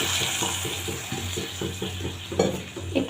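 Water poured a little at a time into sizzling masala in a pan for a winter-vegetable paneer dish, crackling and bubbling in quick repeated bursts, close up, with a louder splash near the end.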